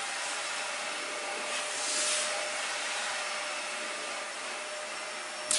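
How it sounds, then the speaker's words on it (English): A household vacuum cleaner runs steadily throughout, a broad continuous whooshing roar close by with slight swells in level and no talking. "You probably can hear the vacuum."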